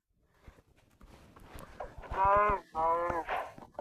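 A cow in a video game gives a few drawn-out, tonal moos that rise in loudness, the two longest calls coming in quick succession near the end.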